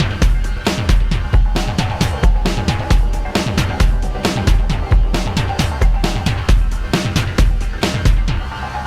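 A custom drum kit on a Synthstrom Deluge runs a continuous groove: punchy kicks, crisp hi-hats and snappy hits in a tight repeating loop. The pattern plays loud and full, with no talking over it.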